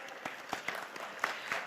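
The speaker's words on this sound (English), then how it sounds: "Once again, ladies and gentlemen, a huge round of applause." An audience at a business leaders' award ceremony applauds a lifetime achievement honoree, steady scattered clapping with a few sharper hand claps standing out, heard alone without talk.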